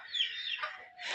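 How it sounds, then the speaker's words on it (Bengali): A pigeon at a small farm of Gola pigeons gives a short, high, squeaky call that rises and then breaks off, close by, with no talking. "দর্শক, এই ছিল আমার চাচার গড়া কবুতর"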